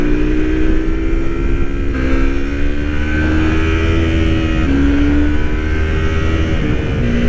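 Yamaha MT-25 motorcycle engine on a test ride, holding high revs around nine to eleven thousand rpm with a steady buzzing drone that dips slightly and climbs again, loud and close, no talk.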